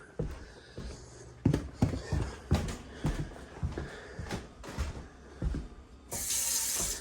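Water runs from a tap at a home well in irregular splashing bursts, with a louder steady gush near the end.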